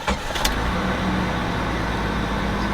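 A Jeep Grand Cherokee WJ starting up for the first time: a brief crank at the start, then the engine settles into a steady, even idle that carries on throughout, close and fairly loud.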